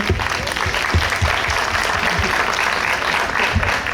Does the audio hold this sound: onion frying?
no